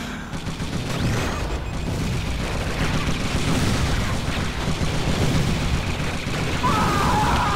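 A weapon shot explodes against Calypso's vehicle in the PlayStation 1 car-combat game Twisted Metal 4, a dense, roaring blast within a continuous wash of loud game noise and rumbling engines that runs steadily throughout.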